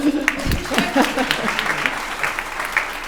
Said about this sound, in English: I feel like you're going to get a round of applause for that.